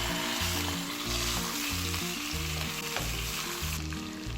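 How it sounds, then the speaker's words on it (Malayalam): Black pomfret crackles and sizzles in oil without pause, a dense even hiss, while gentle music plays in the background. "ഈ മീൻ നന്നായിട്ട് ഫ്രൈ ആയിട്ടുണ്ട്"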